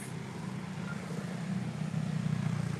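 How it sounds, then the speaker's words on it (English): Road traffic passing outside in the Philippines: a steady low engine rumble that swells slightly toward the end, heard alone without talk. "We got some traffic out here."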